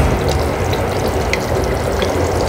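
Meat for biryani fries in a pot on a rainy day, giving a steady, dense, close sizzle that stays level throughout with no talking over it.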